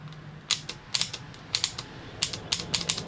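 The starter solenoid on a 2011 Craftsman PYT 9000 lawn tractor clicks in short irregular bursts of sharp metallic ticks, close and fairly quiet over a faint background hum.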